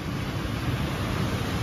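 Steady low roar of surf washing in at Calayo Beach, Nasugbu, Batangas, continuous and fairly loud, with a constant rushing texture and no voices.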